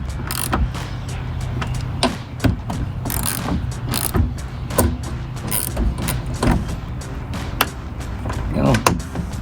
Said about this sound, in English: Finish up by tightening our other 4 bolts inside the wheel well here.